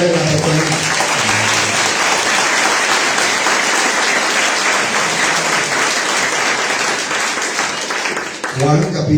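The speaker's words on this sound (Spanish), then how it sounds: "Démosle la gloria a Dios, hermano. Aplauda a Dios." A church congregation claps and applauds loudly at a Sunday service, a dense sustained ovation filling nearly the whole stretch, with a preacher's voice calling out over it at the start and end.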